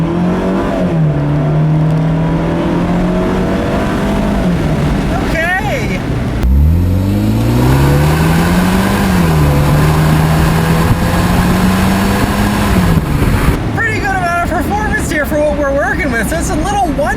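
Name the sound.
Fiat 124 Spider 1.4 liter turbocharged engine accelerating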